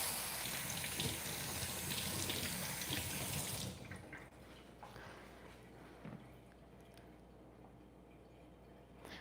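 A kitchen tap runs strongly over three jalapenos for about four seconds, then shuts off, leaving faint drips, handling noise and a soft knock in a quiet room, with no voice.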